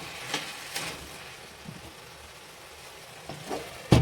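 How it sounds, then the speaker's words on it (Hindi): A spoon stirs pumpkin curry with a souring ingredient in a pan, making soft scraping strokes at irregular intervals over a quiet, steady sizzle, with a sharp knock of utensil on pan at the end. "इसको इस तरह से चलाते रहेंगे"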